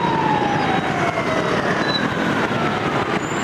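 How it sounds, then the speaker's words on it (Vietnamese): An ambulance siren wails with sweeping, gliding tones through busy Saigon street traffic, loud and steady over a dense roar of engines and road noise. "Mấy xe hơi này cũng rất là lịch sự, nhường cho xe cứu thương đi rồi là họ mới đi."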